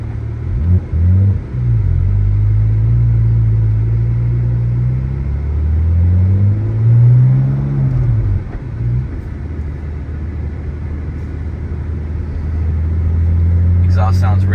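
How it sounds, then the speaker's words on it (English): A 2008 Porsche 911 Turbo 997.1 with Tubi exhaust and high-flow cats drones loudly and continuously from inside the car, rising and falling in pitch through gear changes, with someone talking over it. "Exhaust sounds really good with the Tubi exhaust, the high flow cats."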